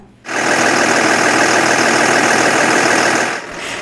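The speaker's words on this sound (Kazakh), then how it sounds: "Машина трактор паркында техника гөрелтесе" A loud, steady tractor engine rumble in a farm machinery yard starts abruptly and runs evenly for a few seconds before dropping back to a quieter idle; no talking.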